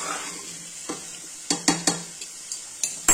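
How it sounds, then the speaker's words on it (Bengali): Vegetables for pav bhaji being stirred in a pan with turmeric: a sizzling fry bed broken by a series of spoon scrapes and clinks against the metal, irregular and close, with no voices. "এবার একটু ভালো করে নাড়িয়েই আমি জল দিয়ে দেব।"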